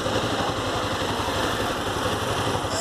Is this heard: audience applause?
no